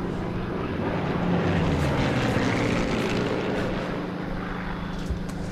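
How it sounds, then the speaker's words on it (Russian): Video game propeller airplanes drone overhead in a loud, continuous engine roar that swells slightly and then eases, with no voices. "вот летают самолеты"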